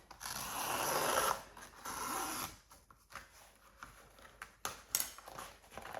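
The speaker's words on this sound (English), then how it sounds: "pierce the canvas at the edge with your craft knife and just go around like this" A craft knife slices around the edge of a canvas, leaving a clean beveled edge, with a steady scraping cut at first, then short irregular snips and scratches, close up with no talk.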